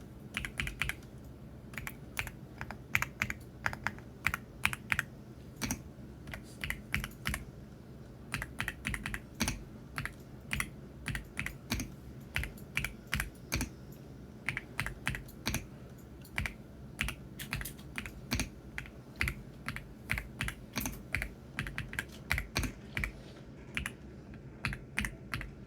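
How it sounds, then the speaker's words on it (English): Steady typing on an AULA F99 gaming keyboard fitted with gray wood V3 switches, producing muted, close key clicks in irregular fast bursts with brief pauses, heard alone without any voices. "It does have the gray wood version 3 switches, and they are absolutely silent, and we'll let you listen to them in just a second."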